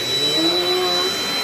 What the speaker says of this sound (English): Dirt Devil did stay true to their word with this vacuum.